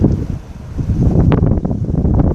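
Strong wind buffets the microphone at the Port Est harbour on Réunion where boats are moored, a steady loud rumbling roar with gusty rustle throughout and no voices.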